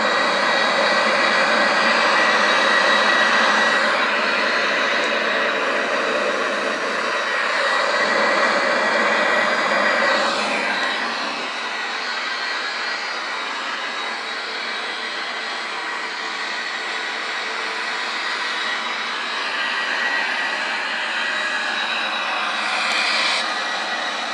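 Boeing 737-800 jet engines in the X-Plane flight simulator, a loud steady cockpit-level roar with a high whine layered on top, continuous throughout the clip, easing slightly partway, no talk.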